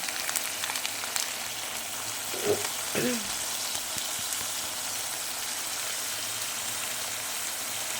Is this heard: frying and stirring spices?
yes